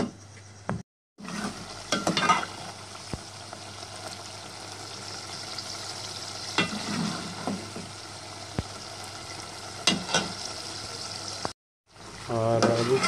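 Chicken frying in a pan for a home-cooked Ramadan sehri meal, a steady soft sizzle with spoon scrapes and stirring clatter throughout, close by, broken by two brief silent gaps.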